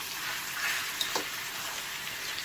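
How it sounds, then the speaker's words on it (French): Lamb neck pieces browning in olive oil over low heat, a soft steady sizzle with a couple of faint clicks, fairly quiet and without talking. "à feu doux, j'ai juste besoin de dorer les morceaux de viande"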